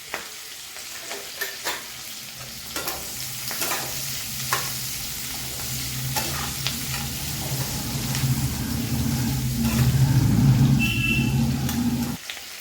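Chopped onion and capsicum sizzle in a hot pan for paneer pulav, with a constant frying hiss and repeated scraping stirs that grow louder toward the end, close by and without talk.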